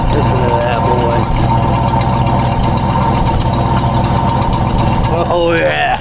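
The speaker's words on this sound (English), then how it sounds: "Exhaust sounds good. Listen to that, boys." A rebuilt 1965 Ford 352 V-8 idles steadily with a low, even exhaust rumble throughout, loud and close, with faint background noise and a brief higher sound near the end.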